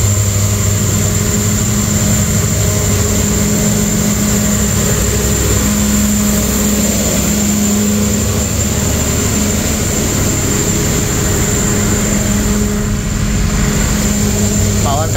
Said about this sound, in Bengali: এখন আমি প্রবেশ করছি ট্রেনটির পাওয়ার কারের ভেতরে।